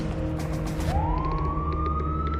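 A police siren wails far off, a single rising tone emerging partway through and holding steady over a dense, low background rumble.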